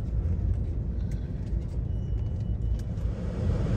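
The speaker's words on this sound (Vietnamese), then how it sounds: "lết nãy giờ kẹt xe quá trời" Dense holiday traffic jam of cars crawling on the road toward Vung Tau in Vietnam, a steady loud rumble of nearby engines and road noise with no pauses.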